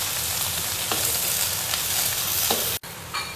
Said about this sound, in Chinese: 最后炒个包菜。